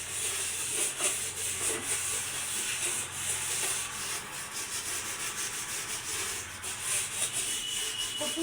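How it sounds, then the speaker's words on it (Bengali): A scouring pad scrubs a home cooking stove clean, producing a steady, close, continuous rubbing and scraping that runs unbroken throughout with no voices. "চুলাটা আগে ভালো করে মাজনি দিয়ে ঘষে নেব, তাহলে একদম নতুন হয়ে যাবে"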